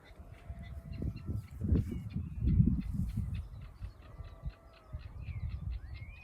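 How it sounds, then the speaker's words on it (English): Crows caw outdoors along a country lane, harsh calls in the distance over a low rumble of wind or handling noise, mixed with other faint birdsong. "Quite a lot of crows around."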